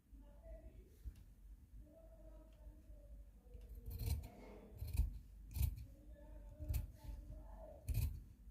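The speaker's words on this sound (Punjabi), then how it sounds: "ਸਭ ਤੋਂ ਪਹਿਲਾਂ ਪਹਿਲਾਂ ਗਲਾ ਕਟਿੰਗ ਕਰਾਂਗੇ" Scissors snipping through fabric while cutting out a V-shape kameez neckline, a series of crisp, close cuts coming in a loose rhythm, strongest in the second half, with faint background sounds between snips.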